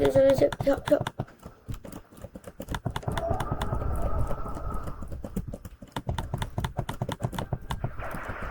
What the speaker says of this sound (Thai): เสียงคีย์บอร์ดโคตรดังเลยคนดู